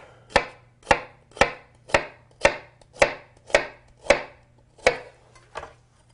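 A knife cuts onions into thin slices on a cutting board: about ten crisp, evenly spaced chops, close and loud, with a faint low hum under them.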